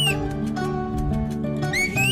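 Bright, sliding whistled tones of the Turkish whistled language, or bird language, rise and fall above a steady background hum, a whistled exchange that ends with clear rising whistle glides.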